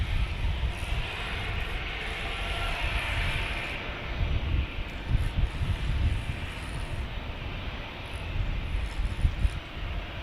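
A fixed-wing airplane landing at San Diego airport, arriving from Oakland, California: a steady, broad engine roar heard from a distance, with gusty low rumble and no talk throughout.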